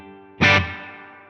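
A reverb tail from an IK Multimedia Mesa/Boogie amp simulation: a loud, distorted guitar chord strikes once, then decays slowly, washing and ringing out with lingering reverb.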